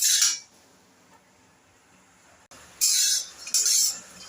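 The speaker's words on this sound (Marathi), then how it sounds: "तर हे बघा, आपले शेंगदाणे आता थोडेसे भाजलेले आहेत" Peanuts roasting in a metal pan are stirred in short scraping, rattling bursts: one at the start, then two more after a quiet stretch, close and fairly loud.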